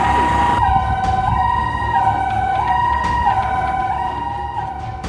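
Emergency vehicle siren wailing steadily, its pitch stepping up and down in a repeating two-tone pattern, loud and continuous with no talk, heard amid the aftermath of a building collapse in Mogadishu, Somalia.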